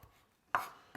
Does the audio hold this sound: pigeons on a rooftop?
no